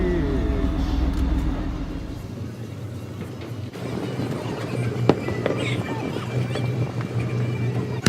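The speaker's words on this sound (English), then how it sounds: "Here's the fireworks show we've been waiting for." Fourth of July fireworks bursting over the Long Beach harbor near the Queen Mary, heard from a cruise boat as scattered booms and crackles under a steady engine and water rumble, with voices talking in the background.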